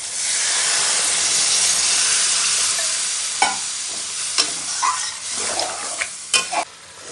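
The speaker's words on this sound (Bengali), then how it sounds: "এখন আমি জল দিয়ে দিচ্ছি" Water poured onto eggplant frying in spices bursts into a loud, steady steaming hiss that gradually settles, with several sharp utensil knocks and scrapes near the end.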